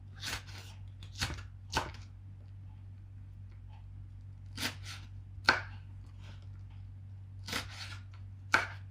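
Knife slicing salad vegetables on a cutting board: about eight sharp, separate cuts spaced irregularly, close and moderately loud over a steady low hum, with no talking.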